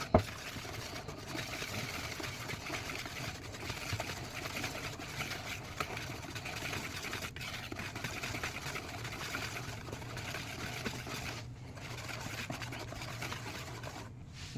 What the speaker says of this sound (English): Now you take your whisk and you mix up all the dry ingredients.